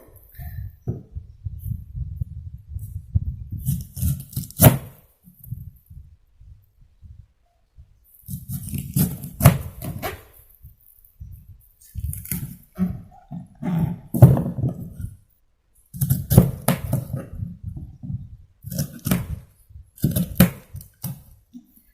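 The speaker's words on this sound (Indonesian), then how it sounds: "Untuk pertama kita potong dulu nenasnya." Knife cutting a whole pineapple, heard as several separate bursts of crunchy slicing and dull thuds against a board, close and fairly loud, with short quiet gaps between the cuts.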